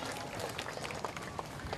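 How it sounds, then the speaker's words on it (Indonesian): Applause from a crowd at an outdoor political declaration rally in Timika, steady dense clapping with crowd noise filling the whole moment. "mari kita berikan tepuk tangan paling meriah untuk para karakter"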